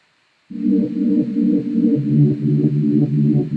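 A low, droning synthesizer tone starts abruptly after a moment of silence and holds steady, thick and buzzy, with a slight wavering pulse.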